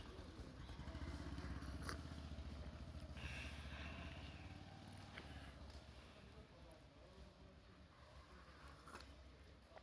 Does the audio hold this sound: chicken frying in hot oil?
no